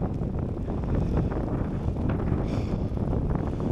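Strong wind buffeting while cycling near Littlehampton in wind and rain, a steady loud roaring rush of gusts against the microphone, with no clear talk.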